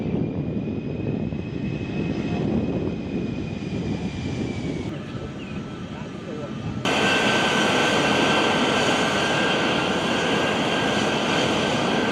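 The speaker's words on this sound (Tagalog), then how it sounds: "Dumating na mga bigating assets ng Amerika sa Subic Bay Port, isang C-17 Globemaster II, isa sa pinakamalaking eroplano sa armada ng United States Air Force." A C-17 Globemaster III military transport aircraft at Subic Bay Port gives a loud, steady broadband engine roar that holds throughout, dips briefly, then grows stronger with a sustained high whine.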